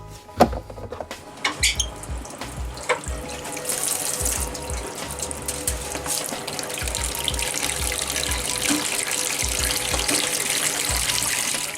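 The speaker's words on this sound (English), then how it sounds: "I'm going to soak them in some warm water" Warm water runs steadily from a workshop tap into a sink where wooden toy pieces are being soaked, a continuous rushing splash with a few clinks of dishes or containers near the start.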